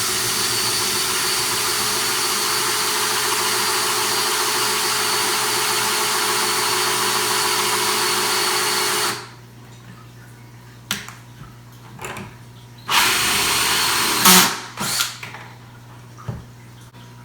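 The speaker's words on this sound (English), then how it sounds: "Let's get drilling." A power drill bores a hole in a DIY auto top off system, a loud continuous whine running for about nine seconds, then stopping, followed by a few short bursts and handling clicks.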